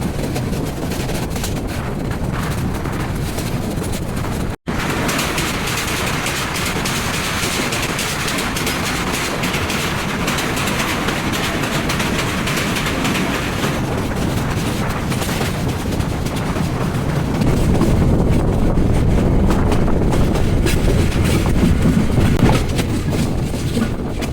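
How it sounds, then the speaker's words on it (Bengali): The Parabat Express intercity train runs through a storm, with a continuous loud rumble of rail wagons mixed with gusting wind roar. The sound swells somewhat louder and heavier toward the end. "ঝড়ের মধ্যেই ছুটে চলেছে আন্তনগর পারাবত এক্সপ্রেস"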